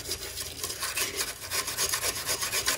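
Sandpaper scrubs rust on a BMW E46 3 Series body panel with steady back-and-forth strokes, a continuous close, raspy rubbing that swells and fades in rhythm for the whole stretch, no voices.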